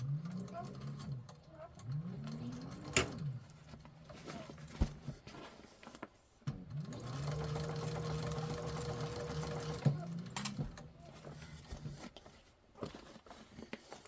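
A sewing machine stitches a handbag on its cylinder arm in bursts of rapid whirring, starting and stopping several times with a longer steady run in the middle and faint handling noises between.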